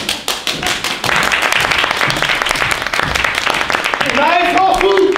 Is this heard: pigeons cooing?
no